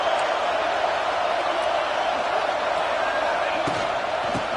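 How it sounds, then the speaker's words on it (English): Stadium crowd noise from an NCAA football video game, a steady dense roar of massed fans with faint scattered thuds, sustained throughout. "listen to this crowd noise. This stadium is vibrating"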